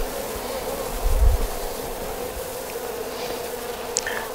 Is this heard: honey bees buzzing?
yes